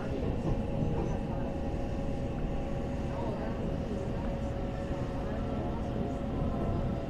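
EMU800 commuter train rolling into Qidu station on the Yilan line, a steady loud rumble with a constant high tone, heard from onboard with voices faintly underneath.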